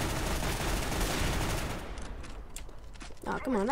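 Rapid bursts of gunfire in Counter-Strike: Global Offensive, a dense, loud volley for about two seconds followed by scattered sharper shots, with a player's voice speaking briefly near the end.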